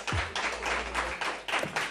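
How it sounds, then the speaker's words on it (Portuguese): An audience claps in quick bursts at a live event, a fairly faint, rhythmic patter of hands heard alone without talk. "Palmas, façam barulho."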